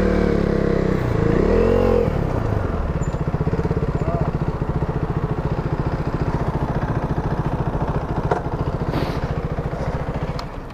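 A Yamaha YZF-R125 motorcycle revs loud and close as the front wheel lifts in a wheelie, then the engine drones on with a rattling idle after the bike is dropped.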